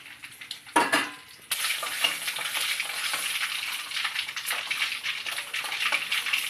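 Mustard seeds, curry leaves and chillies fry in hot oil for gongura pachadi, starting with a brief clatter before a steady, close, crackling sizzle takes over and continues with no talk.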